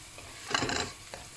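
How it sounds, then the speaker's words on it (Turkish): Tomato paste and peppers fry briefly in a pan, giving a soft close sizzle with a stir or scrape in the middle, alone without talk. "Salçamızı da azıcık kavuralım"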